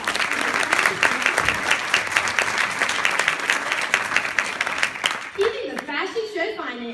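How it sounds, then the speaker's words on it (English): Sustained audience applause at a charity fashion show, steady dense clapping for about five seconds that then fades as a voice begins speaking. "Let's give her a round of applause"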